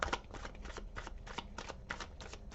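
Tarot cards are shuffled and drawn during a reading, giving a steady run of close, soft riffling bursts and flicks with no talking.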